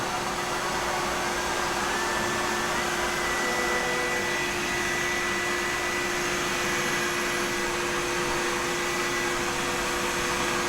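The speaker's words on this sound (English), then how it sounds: "Back on, vacuum on, router on." A wood router carving a plant stand screams steadily alongside the loud, constant roar of a shop vacuum, both running nonstop without pause, close by.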